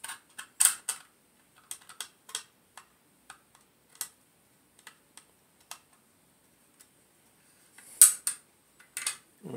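Small magnetized screws are set by hand to mount an internal drive in a Denon Prime 4 DJ unit, with sparse, close metallic clicks and ticks scattered irregularly across a quiet background.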